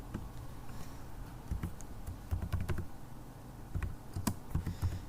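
Keys clatter on a computer keyboard as an SQL INSERT INTO command is entered into an editor, a quiet, uneven patter of soft taps with small clusters and short gaps, heard alone and close.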